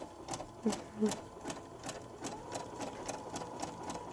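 A sewing machine stitches over pearl cotton to gather fabric for a costume, running in a steady, fast rhythm of even mechanical pulses that stay close and fairly quiet from start to finish.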